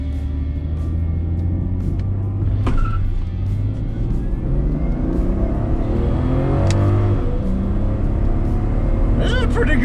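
A 1997 Toyota Supra MK4 launches and accelerates, its engine rising steadily in pitch through the gears as a loud cabin drone, with a few rising whines, while people talk inside the car.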